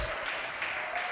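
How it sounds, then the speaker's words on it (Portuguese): Church congregation applauding during a Bible study service, a dense, even wash of clapping that fills the room without pause. "aplauda o nome dele"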